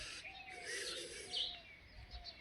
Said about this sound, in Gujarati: આ પંખીડા મળ્યા,